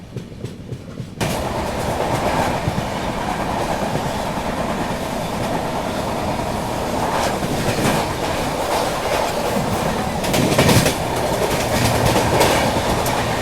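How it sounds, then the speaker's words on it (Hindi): An express train thunders past at close range while overtaking the Jhelum Express on an Indian railway line, a loud continuous roar with rhythmic clickety-clack of wheels lasting throughout. "Overtaking Jhelum express."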